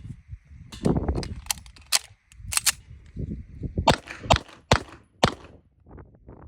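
An OA Defense 2311 full-size pistol fires a string of rounds, sharp cracks spaced irregularly about half a second to a second apart, with quieter handling clatter between shots and no talk.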